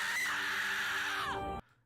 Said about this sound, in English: I'm lowering it more because this bird's loud.